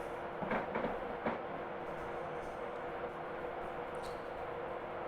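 A train rolls along the Newcastle to Edinburgh line in Train Simulator Classic, a continuous broad rumble with a few faint rail clicks early on, steady and moderately quiet throughout.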